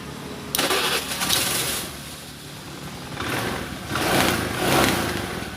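An engine is started after a fuse replacement: a short cranking burst, then a rough mid-range running sound that surges and dips a few times while settling, fairly near and alone.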